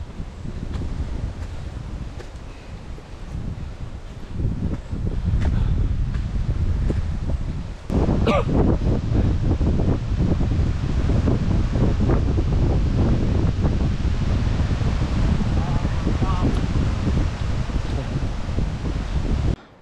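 Strong mountain wind on Mount Latimojong roars loudly and continuously into the microphone, rising in force partway through, with no voices.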